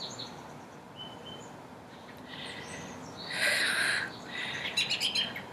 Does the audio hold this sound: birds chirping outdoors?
yes